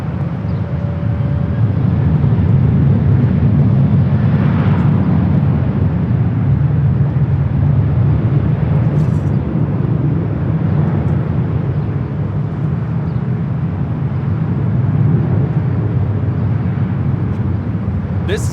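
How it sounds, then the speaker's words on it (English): Southwest Airlines Boeing 737-700 jet taking off at Los Angeles International Airport bound for Dallas Love Field, a loud, steady low engine roar that holds throughout with a broad rumbling wash. "taking off to Dallas Love Field on the 737-700"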